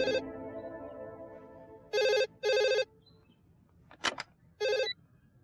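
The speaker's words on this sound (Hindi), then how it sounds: "ओफो प्रेरणा, कब से फोन कर रही हूँ, उठाती क्यों नहीं?" A telephone rings in short electronic bursts, four rings with gaps between them, and a brief sharp click in between.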